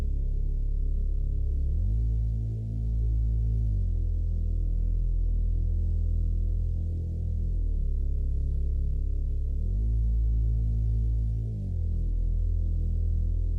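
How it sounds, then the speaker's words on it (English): Deep Reese bass synth drone, thick and detuned, pulsing slowly with a gentle repeating pitch movement every few seconds, heard alone and fairly loud. "So I have this Reese over here."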